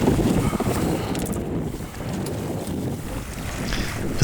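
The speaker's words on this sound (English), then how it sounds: "A strong breeze of 15 to 20 knots from the stern gave us a good and fast ride to our first destination." Steady wind roars across the microphone on a sailboat running downwind under its jib in a strong 15 to 20 knot stern breeze on the Schlei, with water rushing along the hull beneath and no voices.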